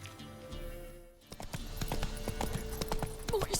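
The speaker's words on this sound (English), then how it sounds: "Whoa there, Roach" Horse in the Witcher 3 video game clip-clopping, a quick series of close hoof knocks on hard ground after a brief quiet moment, with a faint background murmur.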